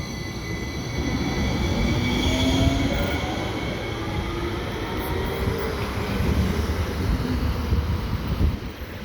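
A small light rail train running, a continuous rumbling roar of wheels on track with faint squealing tones, steady and fairly close for the whole stretch with no talking.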